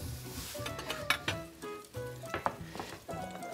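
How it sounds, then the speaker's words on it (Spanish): Oil in a frying pan sizzles and crackles steadily, close and fairly quiet, with irregular pops and small spatters. "Y vamos a poner esta sartén aquí con un poquito de aceite. ¿Lo oís el ruido?"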